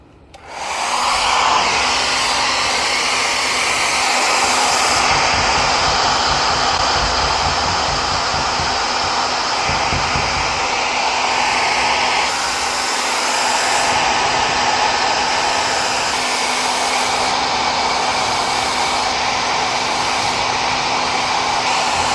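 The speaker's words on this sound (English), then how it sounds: "We're going to heat them up a little bit with a hair dryer" A hair dryer blows hot air onto stickers on a 2025 Toyota Tacoma to loosen them, a loud, steady whirring roar that runs for over twenty seconds with slight shifts in pitch.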